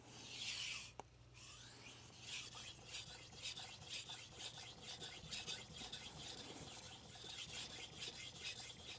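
A TOSA Aogami Super 165mm santoku slides over a Naniwa Chocera Pro 1000 grit whetstone in long passes, a soft, rhythmic, repeated rasping scrape at close range, quiet overall.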